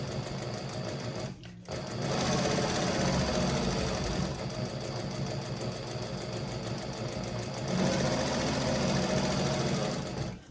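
A sewing machine running steadily along the edge of a handbag lining, a close, loud mechanical whir with rapid needle chatter, briefly stopping near the start before continuing almost unbroken.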